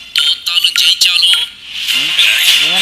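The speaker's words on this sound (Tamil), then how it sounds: "ஃபோன் பண்ணுறான்." A phone rings in a Tamil short film, a loud, close electronic ringtone with repeated bright warbling bursts that pause briefly before resuming.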